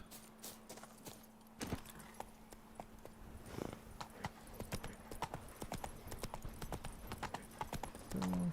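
Roach the horse galloping in The Witcher 3, a quick, steady run of clip-clop hoofbeats at moderate loudness with a few knocks and a faint low hum beneath.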